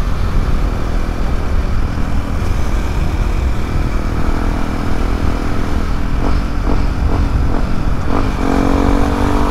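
A stock-engine Yamaha WR155R motorcycle revving hard while riding, its buzzing engine note steady and loud over rushing road and wind noise, with a few rising rev pulses near the end.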